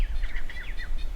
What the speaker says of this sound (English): The liquid notes of birds and song float throughout Kapiti.